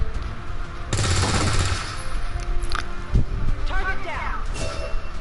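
XCOM 2 gunfire, a sharp burst of rapid shots followed by a couple of single cracks, close and loud, mixed with game effects and a voice talking.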